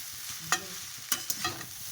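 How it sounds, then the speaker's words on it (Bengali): Chow mein frying in oil in a pan, stirred with a wooden spatula: a steady close sizzle broken by a few sharp scraping clacks of the spatula against the pan. "চাউমিনটা ভেজে"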